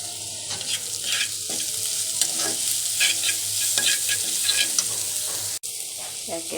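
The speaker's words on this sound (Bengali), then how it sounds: "তেজপাতা, কাঁচামরিচ আর পেঁয়াজগুলো গরম তেলে।" Bay leaves, green chilies and onions frying in hot oil in a home kitchen, a loud, constant sizzle broken by repeated scraping stir strokes.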